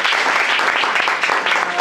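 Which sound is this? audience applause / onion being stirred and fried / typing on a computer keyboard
audience applause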